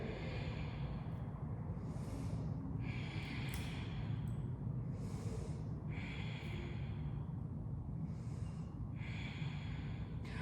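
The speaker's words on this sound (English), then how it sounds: "let's take 3 breaths here" Slow, deep breaths drawn during a held lizard pose in a short vinyasa yoga flow, several audible inhale-exhale cycles at a steady rhythm over a constant low background hum, no talking.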